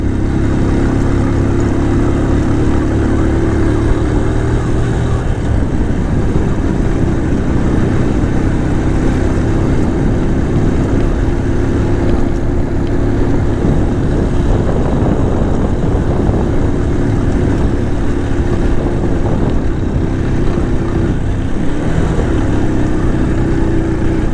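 A 100 cc motorcycle labouring uphill on a rural road in Aguilar, Pangasinan, its engine droning loud and strained without a break, with wind rush and no talking.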